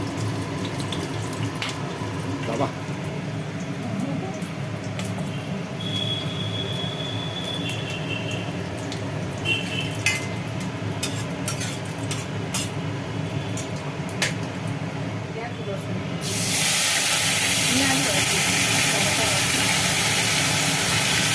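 Bay leaf, whole cumin, cardamom, cloves and cinnamon sizzle in hot oil in a home kitchen, a low crackle under a talking voice that swells into a loud, harsh hiss near the end.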